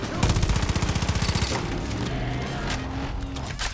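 Rapid automatic gunfire in a video game, a fast rattling burst of evenly spaced shots lasting over a second, followed by scattered bangs and engine noise.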